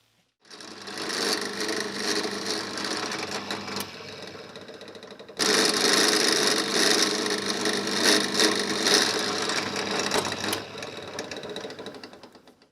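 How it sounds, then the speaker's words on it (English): A drill press bores into a guitar headstock with a mahogany block taped behind it, for a 1960 Les Paul Junior Special–style build, giving a steady whirring, grinding drone that steps louder midway and then eases off. "So let's move to the drill press."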